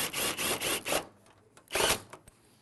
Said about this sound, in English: I'm just going to put a little screw just to hold it into place right on the very end.